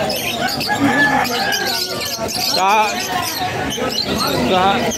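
Caged birds chirp and squawk in bursts at a pet market in Hulong Duhat, Malabon, while people talk nearby over the busy, close chatter.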